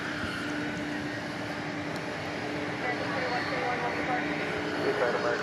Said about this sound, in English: MD-11. Flight 753 going to Chicago